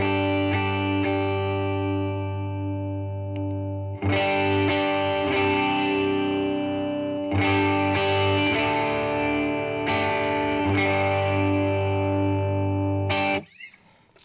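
Electric guitar into a JHS Morning Glory overdrive on a worship pedalboard, strummed chords ringing out loud and sustained, restruck every few seconds with a bright driven edge, ending in a short burst of noise.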